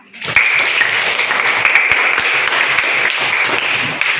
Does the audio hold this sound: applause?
yes